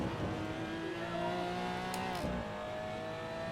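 A Porsche GT4 Clubsport race car engine in a sim racing game at Brands Hatch, a loud, close harmonic roar that drops in pitch under late braking and then settles into a steady drone.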